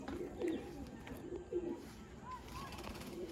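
Pigeons for sale give a few soft, low cooing calls, faint and somewhat distant, over a quiet background.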